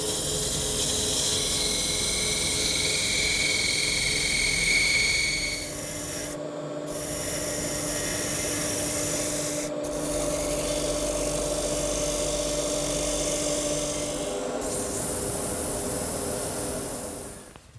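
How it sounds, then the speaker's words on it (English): A parting tool cuts into wood spinning on a lathe while building a dining table, a loud continuous rasping scrape with steady motor hum, pausing briefly twice before resuming and fading at the end. "now I'm going to start with this feature right here with my parting tool"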